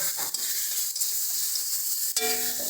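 Spice paste frying in a pan for a Bengali oil-eggplant curry gives a steady, close sizzle with stirring scrapes. A sharper burst of hissing flares near the end as a little water hits the hot masala.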